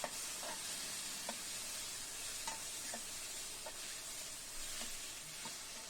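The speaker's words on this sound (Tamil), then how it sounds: "மஞ்சத்தூள் போட்டு நல்லா வதக்குங்க." Steady sizzling from a hot pan of eggplant and potato sautéing with turmeric, with occasional stirring clinks and scrapes, continuous and moderately loud, no voices.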